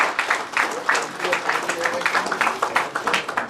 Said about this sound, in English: Let's give our chief guest a very, very warm welcome and a round of applause.